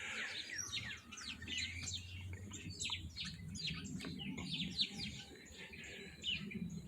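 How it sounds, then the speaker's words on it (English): Birds chirp and tweet in a peaceful backyard, with many quick overlapping calls fairly close by and a low background hum underneath. "let's listen to the birds."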